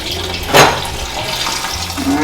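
Tap water runs steadily in a home kitchen while a turkey is being prepared, with a brief louder gush near the start and a constant stream of splashing into a sink or pot afterward.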